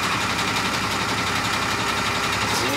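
A large super fire truck's engine runs steadily at idle as it is about to be driven, a constant rumbling drone with a faint knocking texture and no talk over it.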